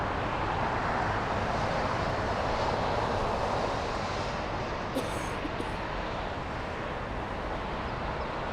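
An Alaska Airlines airliner at Los Angeles International Airport, its jet engines roaring as a steady, broad, loud rumble that holds evenly throughout with no pauses.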